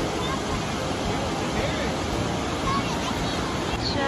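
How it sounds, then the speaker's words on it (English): The waterfall at Rock Island State Park makes a constant, even roar of falling water that fills the whole stretch at a fairly loud level. "Beautiful falls."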